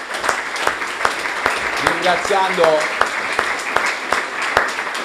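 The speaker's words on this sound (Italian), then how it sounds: "Quindi direi di rinnovare un nuovo applauso al professore" Audience applause for a retiring professor at a CISL union general council meeting in Cosenza: scattered, fairly close claps rising and fading across the room, with a person speaking over them.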